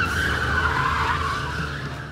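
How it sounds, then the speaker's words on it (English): A car spins through donuts at a monster truck and drift show, its tires skidding and squealing in a loud, continuous roar close by. "It looks awesome when you're doing donuts"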